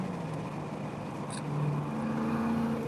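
A race car at a track event during the Tire Rack One Lap of America in Nashville passes by, its engine a steady mid-distance drone that swells slightly toward the end, with no voices.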